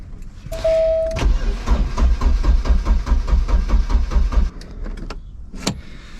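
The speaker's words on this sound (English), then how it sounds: "Let's see if it even tries to start now." A Porsche 944 engine cranks steadily for about three seconds with a rapid rhythmic churn, following a brief whine, then stops without catching; loud and close, no talking.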